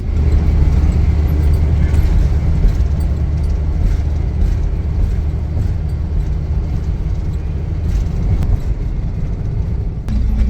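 A car drives along rural back roads in Alabama, with a steady, loud road and engine rumble and tyre noise throughout, no voices.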